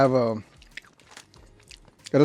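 Someone crunches Doritos tortilla chips, giving soft, irregular biting and chewing crackles up close in the pause between bursts of their own talking.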